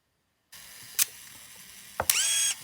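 A 1980 Fujica Auto 5 date point-and-shoot film camera firing its shutter: a sharp click, then a second click and a short whirring film-advance motor, close and isolated against a faint hum.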